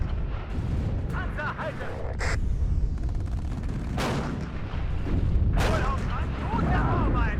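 Heavy firefight in the WARNO war game, with dense gunfire and booming artillery blasts rolling continuously beneath German radio chatter, sharp bursts punctuating the roar.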